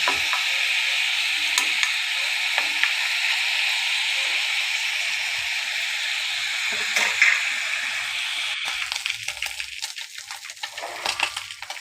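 Fish sizzles in a pan with a bright, steady hiss that holds for most of the stretch. Toward the end it turns choppier, with clinks and bursts of crackle, and no one speaks.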